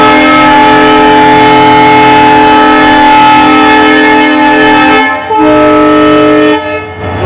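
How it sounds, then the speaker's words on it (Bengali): A train horn at Bamanhat station blasts loud and sustained just before departure. The blare holds steadily, then breaks off briefly twice near the end before resuming. "তো গাইজ এখন হর্ন দিয়ে দিল, অর্থাৎ এখনই ট্রেনটা ছেড়ে দেবে।"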